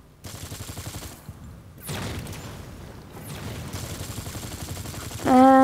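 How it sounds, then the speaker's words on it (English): Gunfire in the mobile shooter Nova 3 sounds as rapid, rhythmic automatic bursts broken by short pauses, fairly loud and close, with a heavier boom-like blast near the end. "He's gonna shoot in here."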